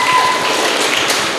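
A workshop audience at a KPU and Bawaslu election event in Kendal gives a short burst of dense, close applause that fills the moment.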